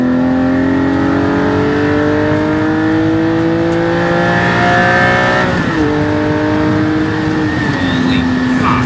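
A Porsche Cayman GT4's flat-six engine revs loud and close, holding a smooth climbing wail that drops in pitch at two gear changes before rising again.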